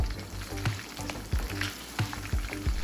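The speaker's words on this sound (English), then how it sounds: "Saute the rice." Rice sautéed with lamb pieces, caramelized onions and whole spices in a pan for Uyghur lamb polo, a steady close sizzle broken by periodic scraping stirs.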